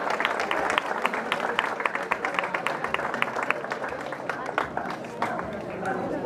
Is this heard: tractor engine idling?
no